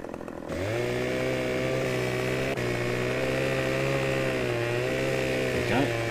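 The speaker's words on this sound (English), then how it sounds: "The sound effect's pretty good actually. It does sound like a chainsaw." A chainsaw cutting trees in the video game Farming Simulator 15, a steady, loud buzzing engine drone that revs up, holds, and shifts pitch slightly while cutting.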